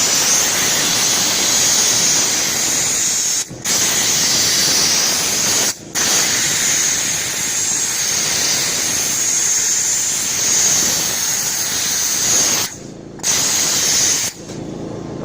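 Steam cleaner blasting steam around a truck, a loud continuous high-pitched hiss held for long stretches with a few brief cutoffs where the trigger is released.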